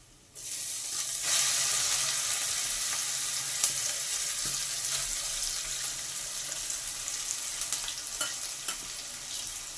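Grated raw mango hits hot oil with fried chillies in a pan for mango rice, breaking into a loud, steady close-up sizzle that continues with scattered stirring clicks, no voices.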